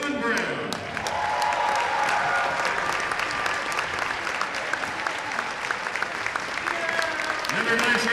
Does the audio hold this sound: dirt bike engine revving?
no